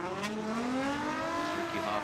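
A Nissan S14 drift car from FDF Bringers Racing at a Formula Drift Pro Spec knockout qualifying round revs hard with a rising engine whine and sustained tire squeal in the burnout box, loud and close.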